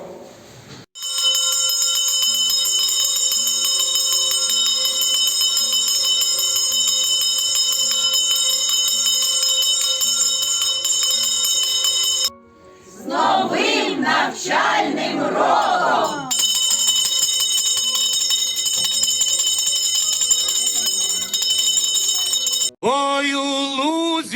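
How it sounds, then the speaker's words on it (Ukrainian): A school's first bell rings to open the new school year at a lyceum ceremony in Balakliia, Ukraine, as a long, loud, steady electric bell tone. A brief break with crowd noise splits it into two runs. "І лунає перший дзвоник, даючи старт новому навчальному року."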